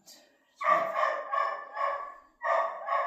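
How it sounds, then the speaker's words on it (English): Neighbouring dogs bark a few times in a quick run of close, clear yips and barks, with a short pause before the last two. "Now the neighbour's dogs are out"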